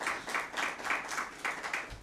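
Audience applause at a Christmas special mushaira, a steady wash of clapping from a crowd that pulses in waves and runs throughout without speech.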